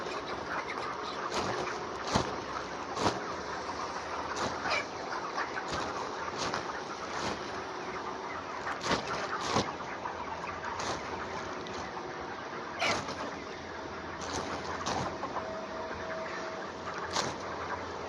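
Chickens clucking in a coop on a hot day during a power cut, scattered short clucks and calls over a steady background hum, moderately distant and fairly quiet.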